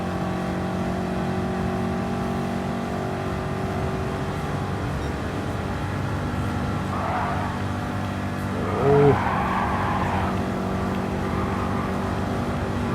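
A race car in Gran Turismo 7 hums along with a steady engine drone, pitch shifting as it brakes and accelerates through a corner, with a short tire squeal midway.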